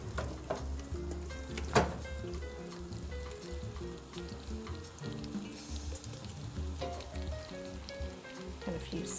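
Chopped onions sizzle steadily in a pan of melted butter and olive oil, a dense continuous crackle with occasional louder pops and stirring scrapes, close up and without talk.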